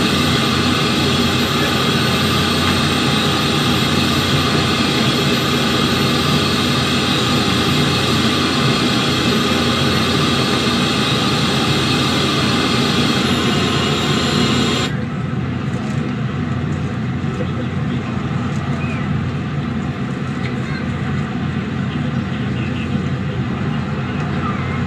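Blue Angels jets roar past in a simulated air show at Jacksonville, Florida, a loud, continuous broadband jet rumble that dulls in its upper range partway through. No voice speaks over it.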